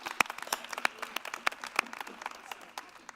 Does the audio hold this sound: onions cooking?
no